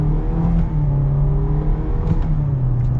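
A 2021 Kia Seltos EX with an IVT transmission accelerates, its engine note a steady, loud droning whir heard from inside the cabin with a slight rising pitch.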